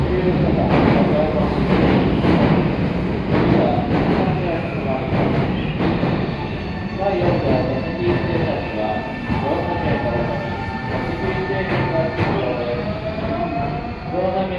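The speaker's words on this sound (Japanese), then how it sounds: "3番乗り場電車が到着します。" A Nankai Main Line Southern limited express train pulls into platform 3 of a Japanese station, its steady rumble and rolling wheels carrying through the whole stretch while platform announcements and station noise run over it.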